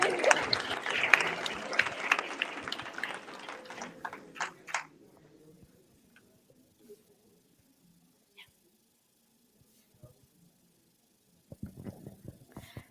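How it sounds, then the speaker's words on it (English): Audience applause at the Nobel Prize award ceremony in Sweden in 2024: a dense, loud burst of clapping that thins out and stops after about five seconds, then near silence with a few faint knocks before some brief rustling at the end. "An applause"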